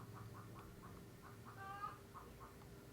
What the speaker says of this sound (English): My neighbors have chickens.